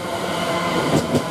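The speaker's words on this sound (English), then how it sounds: "Now you can hear a Greater Anglia train come through" A Greater Anglia train rolls through Romford station, a steady rumble of rail noise with a couple of brief louder swells near the end.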